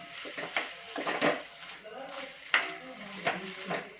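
Semolina sheera for Satyanarayan puja prasad being stirred in a pan, giving soft, irregular scraping and swishing strokes with a faint sizzle underneath, moderately close and fairly quiet.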